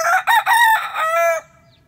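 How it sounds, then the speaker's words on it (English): A rooster with upright posture crows once on cue, a loud, close call in broken bursts that ends in a long held note and then silence. "Give us a crow."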